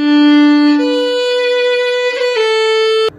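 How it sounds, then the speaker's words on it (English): Solo fiddle playing a half-turn ornament between two descending melody notes, a few sustained bowed tones with a quick flick of upper and lower neighbour notes, close and clear with no talking. "An ornament I really like is called a half turn"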